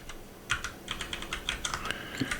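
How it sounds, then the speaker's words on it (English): Rapid, irregular keystrokes clatter on a computer keyboard, close and clear, in quick bursts of clicks with brief pauses between. "I hear typing."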